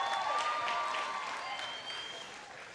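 An audience at a civic event cheers and applauds, a dense wash of clapping with whoops and raised voices that gradually fades.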